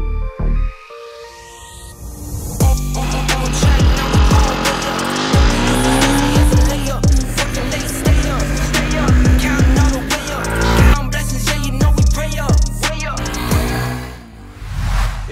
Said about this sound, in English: Let's take this motorcycle for a quick spin and see how it performs 0 to 60 and 0 to 100.